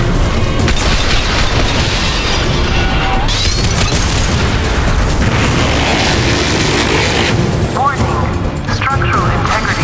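A heavy weapon detonates in Mass Effect 2, a loud booming blast amid continuous combat noise and crackling debris, with voices speaking over the chaos.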